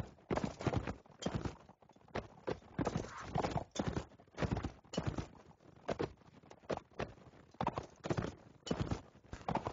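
Horse hooves gallop in a fast clip-clop rhythm in a medieval battle video game, a Cerner horse ridden at near full speed around corners, loud and close with steady repeated hoof strikes and no talk.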